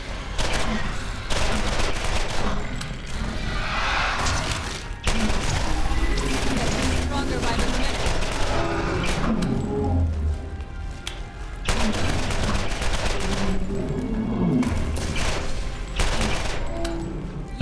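Rapid bursts of machine pistol fire from the video game Borderlands, loud and sustained, broken into several long volleys with short pauses between them.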